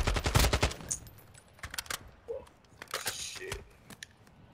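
Bursts of automatic gunfire from the Call of Duty DMZ video game, with rapid rattling volleys early on, then scattered shorter shots and distant pops, fairly quiet overall.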